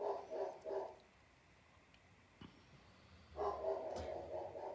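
A big dog barks indoors in two close, loud bursts of several rapid barks with a quiet stretch between them.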